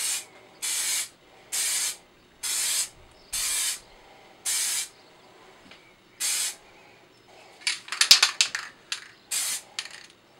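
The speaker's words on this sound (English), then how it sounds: "I've given this two coats of this cheap industrial primer" Cheap industrial primer from a spray can hisses onto a small Airfix Spitfire model kit in a series of short, even bursts separated by pauses, close and loud, with a rattly clicking flurry near the end.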